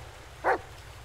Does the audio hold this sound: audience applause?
no